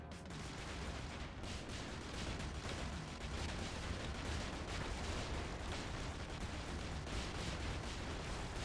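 Dense, continuous barrage of artillery fire on a firing range in the video game Brigador, heavy booming blasts overlapping with no pauses, loud and close throughout, no speech.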